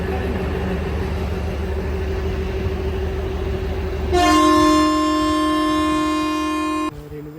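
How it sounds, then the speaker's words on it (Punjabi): A train rumbles close by at a station platform, then a loud, sustained horn blares for a few seconds before cutting off. "ਲਓ ਜੀ ਇੱਕ ਟ੍ਰੇਨ ਆ ਗਈ ਹੋਰ"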